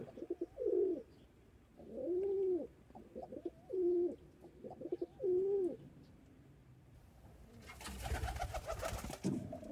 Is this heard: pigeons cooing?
yes